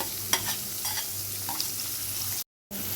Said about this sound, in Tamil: வெங்காயம் நல்லா பொன்னிறமாக வறுக்கணும்